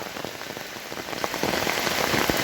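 Cool rain falls across a wide hilly Meghalaya setting, a constant close wash of droplets drumming on surfaces that swells slightly louder toward the end, unaccompanied by talk.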